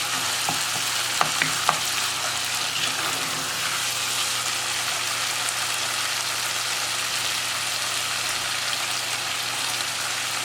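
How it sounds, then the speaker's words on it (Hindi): Minced mutton keema fries in a pan with softened tomatoes and salt, giving a steady, loud sizzle throughout, with a few sharp stirring clinks near the start. "अब आपने इसको 5 मिनट फ्राई करना है।"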